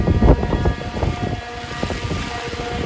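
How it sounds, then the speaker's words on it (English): Strong night wind during a rainstorm in Midtown Manhattan, New York City, buffets the microphone with a low, steady roar and gusty rumbles, loud throughout with no voices. "The wind is insane tonight, guys."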